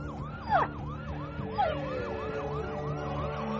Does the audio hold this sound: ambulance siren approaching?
yes